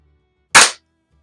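A single sharp crack from a Webley Nemesis air pistol firing 8.2 grain Meisterkugeln wadcutter pellets, loud and close, with near silence before and after.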